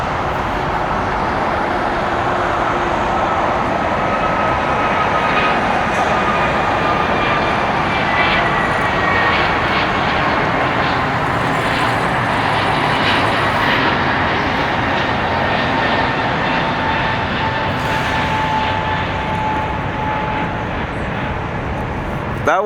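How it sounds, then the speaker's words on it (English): An Airbus A321neo jet airliner departs at Los Angeles International Airport, its steady broadband engine roar loud and continuous throughout with faint tonal whine, no talk over it. "And then we got that A321neo heading off to Reagan National."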